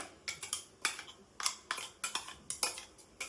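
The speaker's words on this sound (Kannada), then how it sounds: "ಇದನ್ನೀಗ ಒಂದ್ ಬೌಲ್ ಟ್ರಾನ್ಸ್ಫರ್ ಮಾಡ್ಕೊಳ್ಳೋಣ" A spoon clinks and scrapes against a bowl in a quick, irregular series of sharp taps while coconut chutney is transferred, close and fairly quiet, with no talking.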